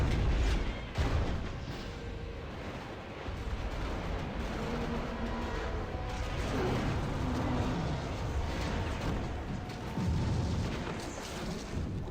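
Cannons in Final Fantasy X fire on Sin, a dense rumbling barrage of booms and blasts rolling on continuously over a low roar, moderately loud and with no voices.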